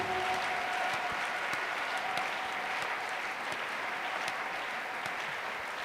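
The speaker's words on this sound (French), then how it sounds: "Applaudis très bien pour le Seigneur Jésus-Christ" A church congregation applauds steadily during a mass prayer service, a dense wash of clapping heard throughout at moderate loudness with no break.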